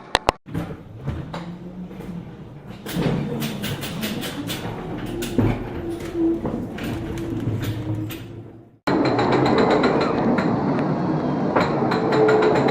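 A ghost train ride car at Great Yarmouth Pleasure Beach rumbles and clatters along rails with sharp clicks and bangs, then the noise shifts to a steady, louder mechanical hum near the end.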